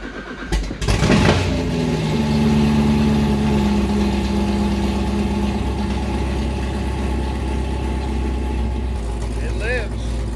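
A Corvette Z06 with upgraded heads, cam and supercharger fires up after a brief crank, then settles into a loud, steady, choppy idle that fills the rest of the stretch.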